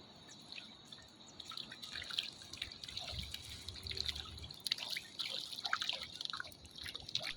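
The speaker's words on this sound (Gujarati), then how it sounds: "અહીંયા સરસ મજાનું પાણી આવી રહ્યું છે" Faint, steady trickling water at Droneshwar Mahadev temple in Gir Gadhada, with scattered drips and splashes, soft and continuous throughout, no voices.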